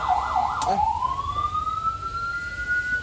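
An ambulance siren, the pattern used when a patient has died, wails rapidly, then rises into a long steady tone, close and fairly loud over a low rumble.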